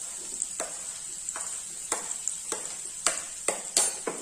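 Chopped onions dropped into onion paste frying in a pan, giving a steady close sizzle with repeated sharp stirring scrapes and clicks at a loose rhythm, no voices.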